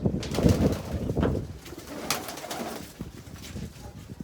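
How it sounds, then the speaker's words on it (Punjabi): Pigeons coo softly and repeatedly, low throaty calls close by, with faint rustling in the background. "ਸਾਰੀਆਂ ਕਬੂਤਰੀਆਂ"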